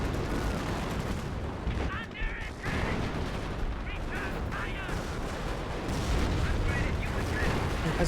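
PIAT anti-tank weapons and other arms firing in the strategy video game Company of Heroes, a dense battlefield din of booms and gunfire under continuous commentary talk.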